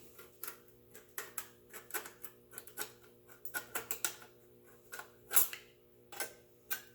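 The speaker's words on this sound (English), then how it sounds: "The crappy part with scissors, tin snips." Tin snips cutting excess steel from a patch panel on a 1938 Pontiac, heard as a series of sharp close metallic clicks and snaps in an irregular rhythm, with no talk.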